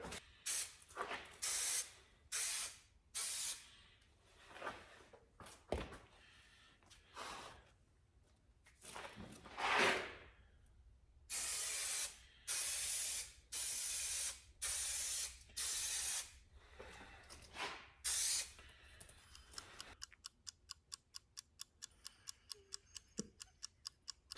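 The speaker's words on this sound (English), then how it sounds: "we have to spray the back side of the two pieces here, and then we spray this" Repeated hissing bursts of spray adhesive applied to the back of boat headliner pieces, short and long blasts in an uneven rhythm, close and fairly loud, ending in a run of quick ticking.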